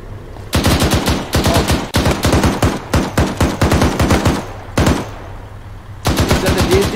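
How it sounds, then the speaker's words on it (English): Rapid automatic gunfire in the Arma 3 military video game, loud sustained bursts of shots separated by brief pauses, with a low engine-like drone underneath and no talk. "We're under fire. We're under fire."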